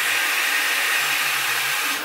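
A Dyson Airwrap hair dryer blows close by, a loud, even rush of air that holds steady and then begins to wind down at the end.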